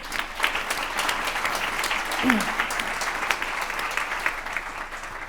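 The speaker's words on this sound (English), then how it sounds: "can I have one final round of applause?" Audience applause closing a panel discussion on female empowerment and women in leadership, a steady dense clapping from a large crowd lasting throughout with a few brief voices mixed in.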